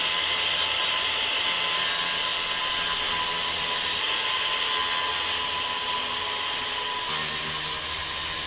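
A saw cuts through a knot in warped scrap wood in a home shop, a steady close rasping, grinding drone that holds for several seconds without pause.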